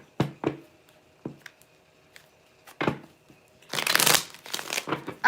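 Tarot cards are handled in separate bursts, with a few sharp slaps and shuffles, then a longer dense riffle of cards close by. Quiet gaps fall between the bursts.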